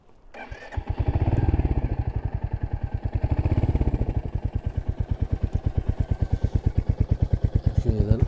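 A Royal Enfield Hunter 350 motorcycle engine starts and idles close by, its exhaust thumping in a rapid, steady pulse that swells slightly in the middle.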